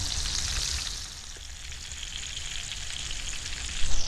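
Steady hissing sizzle of tinapa, smoked fish, frying in a pan in a backyard, close and continuous with a bright crackling spatter that swells slightly at the end.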